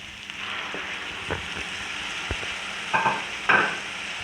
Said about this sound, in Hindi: और इस कलेजी को भून लेती हूँ।